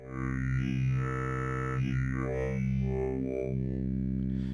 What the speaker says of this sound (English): if I sweep the timbre knob here, it's kind of changing different sounds with different brightness